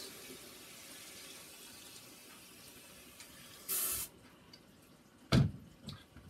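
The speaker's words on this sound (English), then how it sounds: "So I'm going to pump my sprayer" A hand pump sprayer gives a short hissing burst of water onto the glass of a swamp paludarium, followed by a louder second spray and some drips, in an otherwise quiet room.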